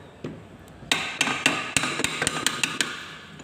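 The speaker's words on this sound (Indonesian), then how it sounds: "Kita bisa gunakan palu mengetoknya" A hammer knocks out the reverse idle gear shaft of a Toyota Kijang 4-speed manual transmission: a faint tap first, then about ten sharp metallic blows in a fairly even rhythm, close and clear.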